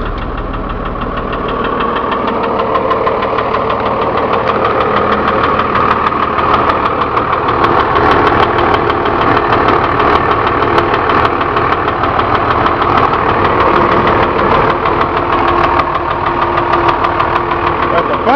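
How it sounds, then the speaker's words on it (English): A diesel engine in a 14 ft Utilimaster FedEx step van idles steadily and loudly at close range, with a persistent knocking noise running through the rumble for the whole stretch. "Well, let me crank it up. We can listen to the motor."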